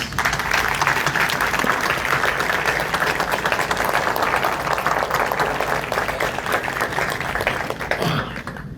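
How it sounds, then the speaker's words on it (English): A meeting room at a county commissioners' session fills with applause for essay and poster contest winners, steady clapping from many hands for several seconds before it thins out and stops near the end. "Please, let's give them a round of applause."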